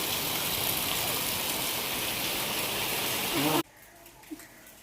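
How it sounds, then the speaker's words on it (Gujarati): Heavy, steady rain hissing loudly, then cutting off abruptly to near silence with a faint thump. "આવ્યો વરસાદ"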